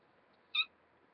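One short, bright meow from a cat sounds once in the middle of an otherwise near-silent moment. It is faint and brief, with nothing else around it.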